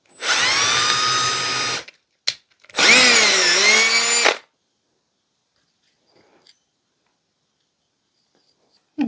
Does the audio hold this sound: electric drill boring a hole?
yes